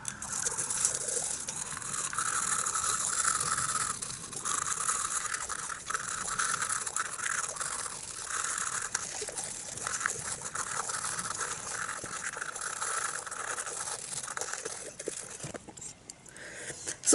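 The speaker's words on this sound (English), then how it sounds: "brushing your teeth for around 2 minutes" Teeth brushed with Carbon Coco charcoal toothpaste, a soft continuous close scrubbing and patter with rapid irregular strokes, fairly faint and alone.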